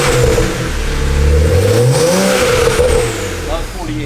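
A BMW 335i's N54 engine hums steadily and rises in pitch as it revs, then eases back down, loud and close, with voices talking over it.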